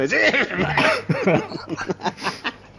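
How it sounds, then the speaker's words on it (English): A short burst of coughing up close, a few rough hacking coughs mixed with throat noise, with no one speaking. "Sorry for that cough."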